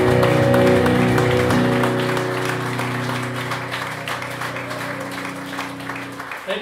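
Pub audience at a whiskey society launch night applauding after a drinking song, a dense, loud wash of clapping that slowly fades over several seconds while music tones linger underneath.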